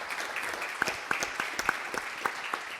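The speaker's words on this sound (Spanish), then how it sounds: "les pido un fuerte aplauso para nuestros expositores" Fairly faint applause from a retail congress workshop audience for the presenters, with scattered distinct hand claps over a soft wash, heard at a distance in a conference hall.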